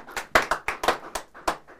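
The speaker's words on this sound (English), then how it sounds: "Give him a round of applause." A small studio audience gives a brief round of applause, a handful of sharp, distinct hand claps in loose irregular rhythm, fairly close and quiet, fading out within two seconds.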